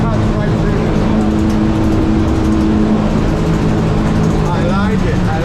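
A Stabicraft 1850 Fisher boat runs at wide open throttle, its outboard giving a loud, steady engine drone with a low hum and rushing water, while a voice speaks over it.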